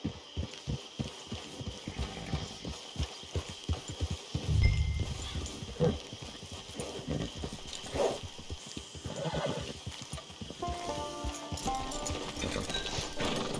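A horse in the Red Dead Online video game clip-clops along at a steady walking pace, hooves thudding close and moderately loud, with an occasional snort and soft game ambience underneath.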